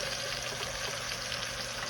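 A beef crown roast sears in a pan with a steady, even sizzle that holds at a constant level throughout, close and moderately quiet, with no talking.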